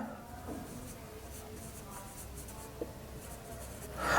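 Pen or pencil writing on paper while a physics exercise is worked through, a steady faint scratching that runs through the whole stretch with small taps, close by and with no talk over it.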